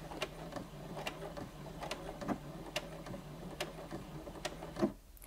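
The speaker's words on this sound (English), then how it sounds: "the machine sews the perfect number of stitches to secure the seam" A Brother Innov-is 15 sewing machine runs reverse stitches at the end of a seam, giving a steady run of soft, evenly spaced mechanical ticks over a low motor hum, close and fairly quiet.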